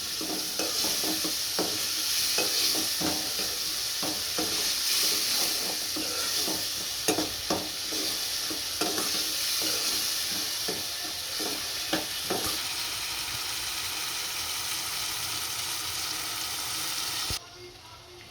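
Chopped tomatoes sizzle in a pan for bhindi masala while a spoon stirs them, a close, steady frying hiss broken by repeated scraping strokes, ending in a quieter hiss.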